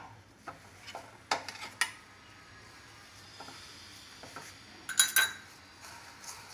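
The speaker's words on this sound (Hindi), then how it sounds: "इनको मिक्स करेंगे" Soya being mixed with wheat flour in a bowl: faint scraping and a few sharp clinks of a utensil against the bowl, sparse and close, with quiet gaps between strokes.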